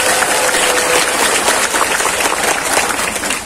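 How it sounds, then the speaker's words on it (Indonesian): Loud, dense applause from a large crowd at an Islamic boarding school Quran completion and anniversary gathering, continuous clapping filling the space throughout. "tepuk tangan sekalian"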